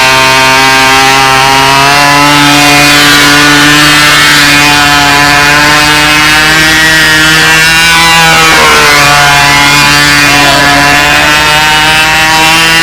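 A K&D 40 control line model plane engine fitted with a tongue muffler and an 11.6 BYNO prop screams at a steady, very loud high pitch, its tone briefly dipping and wavering midway before settling again.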